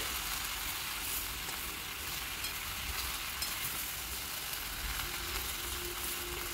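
Chopped Malabar spinach leaves are stirred into a hot frying pan, producing a steady, soft sizzle of frying with faint stirring movement throughout.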